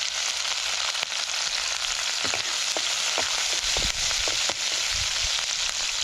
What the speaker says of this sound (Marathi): तेल गरम झालं लसूण घालते लगेच हिरवी मिरची